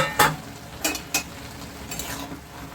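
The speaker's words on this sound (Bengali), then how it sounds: "এটাকে একটু ভালো করে নেড়ে চেড়ে দিচ্ছি যাতে টমেটোটাও বেশ বাঁধাকপির তলায় থেকে সুন্দর গলে যায়" Cabbage and tomato pieces stirred in a pan, three or four distinct close scraping strokes over a soft background sizzle, with no voices.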